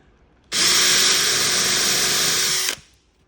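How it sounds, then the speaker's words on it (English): A power drill cuts a countersink into a wooden bench, a single steady high-pitched whine lasting about two seconds that starts and stops abruptly, close and loud with no talk. "But I'm going to put a little countersink there that's slightly larger than the clearance drill, right?"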